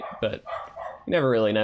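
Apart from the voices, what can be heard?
dog barking outside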